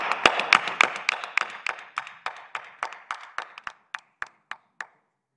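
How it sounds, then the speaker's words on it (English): A small group at a civil rights press conference claps. The sharp separate hand claps are close and fairly loud at first, then thin out and stop within about five seconds. "I think they deserve a big round of applause."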